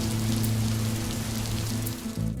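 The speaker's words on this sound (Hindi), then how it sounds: "खिड़की के बाहर हल्की बारिश की बूंदें टप टप गिर रही थीं" Light rain pattering steadily outside a window, a soft continuous wash of drops with a low hum beneath, no voices.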